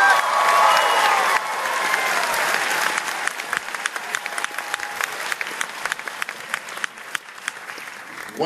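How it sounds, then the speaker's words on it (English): A large premiere audience breaks into loud, dense applause for David Toomey, with a few cheers mixed in; the clapping stays sustained throughout before thinning slightly into scattered claps. "you cannot start this movie without a big round of applause for David Toomey"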